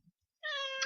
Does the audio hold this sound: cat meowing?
yes